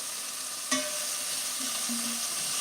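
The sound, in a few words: stirring browning beef in a pot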